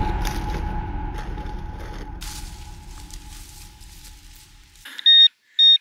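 Metal detector sounds two short, loud electronic tones near the end while hunting for buried relics, following a stretch of rustling digging noise.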